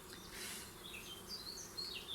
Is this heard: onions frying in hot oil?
no